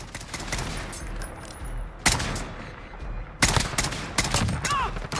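Rifle gunfire in Call of Duty Modern Warfare, an SKS fitted with a FAB Defense conversion: loud close bursts of rapid shots in two main volleys separated by a short pause, with scattered distant battle noise between.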